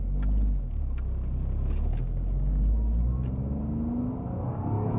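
Car driving forward at low RPM after a GGP motor mount install, a steady low engine rumble and whir from inside the cabin, rising slightly as it accelerates, with no one speaking.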